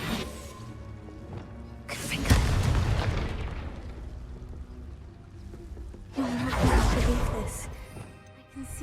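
Two booming magical blasts from the Confringo spell in a video game, loud bursts with rumbling tails a few seconds apart, with a person speaking between them.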